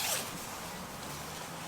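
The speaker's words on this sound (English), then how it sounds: "I've seen people kicking off about the zips in general just not being good quality" A zipper on a NatureHike Cloud Peak 2 two-person tent, one quick bright pull at the start and then a soft, steady rasp of fabric close by with no talking.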